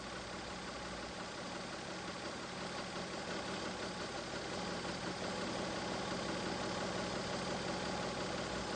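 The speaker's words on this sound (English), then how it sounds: "Next comes the idle speed adjustment." A Mazda MX-3 engine idles steadily during an idle speed adjustment, giving a faint continuous hum with a dense, even texture and no talk.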